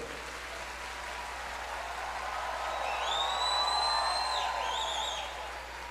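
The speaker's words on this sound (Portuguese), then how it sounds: "Se você está aplaudindo porque você crê," A church congregation claps together in a broad, even wash of applause that swells to a peak midway and then eases, with faint tonal sounds drifting above it.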